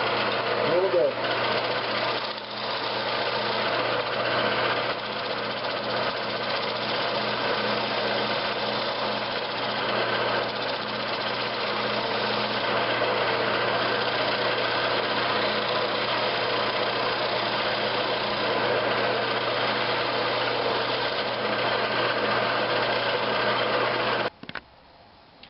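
A wood lathe turns a green bowl roughed from a log while its tenon is trued, giving a steady humming motor drone mixed with continuous cutting noise that cuts off abruptly near the end.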